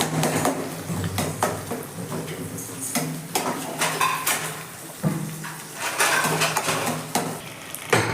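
Onions and two eggs for egg fried rice being stirred in a pan produce repeated scraping and clattering strokes of a utensil against metal, close and fairly loud, with only a faint frying hiss beneath.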